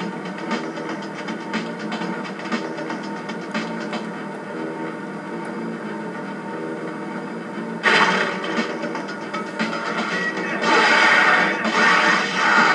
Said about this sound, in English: Ah, the elevator started again